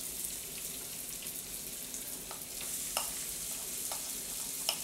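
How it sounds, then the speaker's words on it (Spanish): Garlic and onion sizzling steadily in melted butter in a pan as pasta cooks, a soft continuous frying hiss with a few small pops and stirring clicks, alone without talk. "He derretido la mantequilla y le voy a incorporar ya el ajo y la cebolla"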